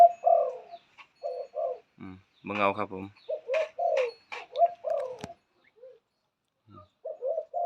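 A zebra dove coos in quick, rolling trills and soft notes, close by, while someone speaks briefly in between.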